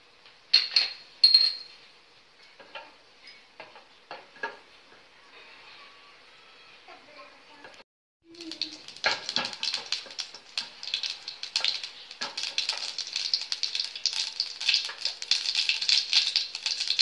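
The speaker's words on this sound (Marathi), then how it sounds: "आता ही राय तडतडलेली आहे" Mustard seeds crackle and pop rapidly in hot oil, starting after a few quieter clinks and building into dense, continuous spluttering close by.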